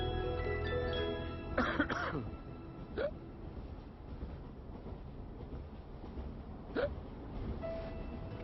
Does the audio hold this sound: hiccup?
yes